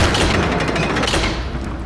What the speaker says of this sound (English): I'm gonna have to use up all my bombs.